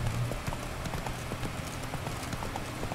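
Horse hooves galloping while riding in The Witcher 3, a quick, steady run of close, clear clip-clop beats over a low ambient bed.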